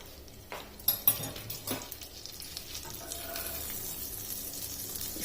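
A cheese-stuffed paratha fries in oil on a pan, giving a steady low sizzle with a few clinks of a utensil against the pan near the start.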